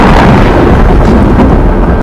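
Thunder rumbles through a big storm as lightning strikes the ground, a loud, continuous roar filling the whole clip before cutting off abruptly at the end.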